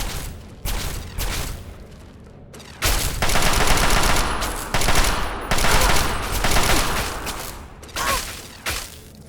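Bursts of gunfire from the video game Fallout 3, several loud volleys of rapid shots broken by short pauses, close and dominating the mix.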